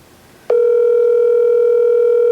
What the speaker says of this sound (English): Let's try calling Mom.